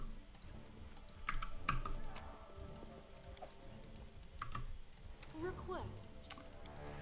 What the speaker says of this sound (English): it's loud even for a mechanical keyboard.